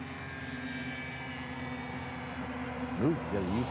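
A UPS Boeing 747 on the downwind at Honolulu airport gives a steady distant jet drone with tonal engine whine, and a brief voice rises over it near the end.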